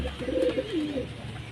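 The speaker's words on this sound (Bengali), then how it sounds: "এটা হচ্ছে কালডোঙা পায়রা।" Kaldonga pigeons cooing, a clear soft coo rising and falling over about a second and a half, close by with faint background noise.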